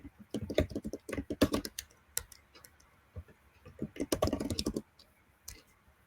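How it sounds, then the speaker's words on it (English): Fast typing on a computer keyboard at close range comes in two rapid bursts of dense clicking separated by a few sparse single keystrokes, moderately quiet, with no talking. "I love the sound of your typing."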